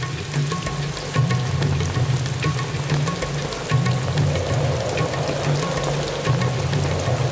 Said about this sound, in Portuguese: As chuvas das monções começam no sul e movem-se para o norte.